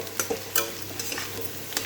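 Vegetables fry in a pan with steady sizzling, broken by a few stirring scrapes, close and moderately loud.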